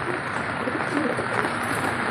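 Soft low cooing from pet pigeons or doves, a few gentle murmured calls over a steady background hiss of rain.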